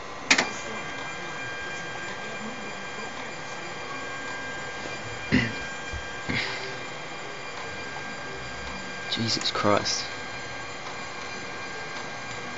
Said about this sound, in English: It says on the website that this printer will go from standby to printing in under 40 seconds